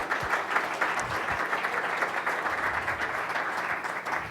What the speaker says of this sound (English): So let's give those guys a round applause.